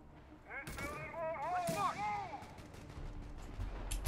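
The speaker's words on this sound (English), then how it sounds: "Oh, the mortar is shooting me." Mortar rounds firing in the World War II strategy game Company of Heroes 3, set on the road to Monte Cassino, heard as gunfire-like blasts under voices and a whistling sweep, with louder low rumbles near the end.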